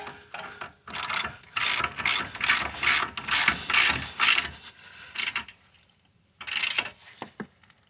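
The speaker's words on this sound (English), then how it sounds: "put this nut on here, and we just got to tighten everything back down" Ratchet wrench clicking in rapid bursts while tightening a nut on the rear ball joint of a Mercedes GL450/ML350 X164 or W163, close and loud, with a pause before a final burst.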